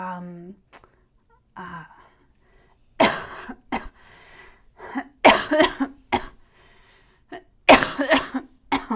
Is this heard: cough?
yes